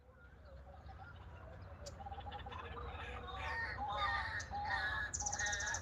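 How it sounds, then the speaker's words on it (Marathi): Loud, harsh peacock calls rise over a steady low hum, growing more frequent toward the end, with faint voices in the background. "मोरचा आवाज आहे का मोर"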